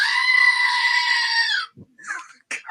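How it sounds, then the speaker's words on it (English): A goat gives one long, loud, wavering bleat that then cuts off, followed by a few short scattered sounds. "I'd bring my goat. It's going to be so much louder on site."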